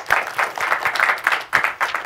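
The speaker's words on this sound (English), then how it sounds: "So if I could just give him another round of applause for that." An audience at a talk with a freelance sportswriter gives a round of applause. The clapping is lively and uneven, from a small to mid-sized group, and fairly close.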